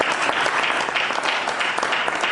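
A church congregation breaks into loud, steady applause in praise of the Lord, dense close clapping throughout without a break.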